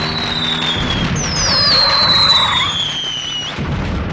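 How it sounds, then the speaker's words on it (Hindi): Firecrackers set off in the middle of a street: a sustained, loud wash of crackling and whistling bursts with rising, screaming tones, heard close and continuous without speech. "आज न दिवाली है न दशहरा, फिर भी पटाखे चला रहे हैं, वो भी बीच सड़क पर"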